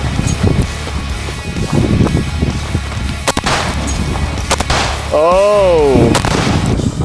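Gunfire at an outdoor mountain shooting range sounds as a few sharp, moderately distant cracks spaced over several seconds, heard through gusty wind noise along with a brief warbling tone.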